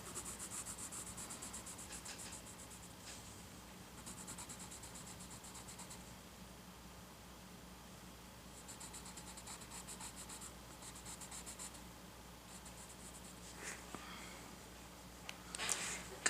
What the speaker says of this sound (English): Continue with the sanding here